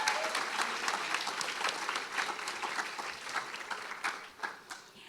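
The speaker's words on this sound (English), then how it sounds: "give another round of applause" An audience at a fall festival queen pageant gives a dense round of applause, a sustained crowd of many hands clapping that tapers slightly toward the end.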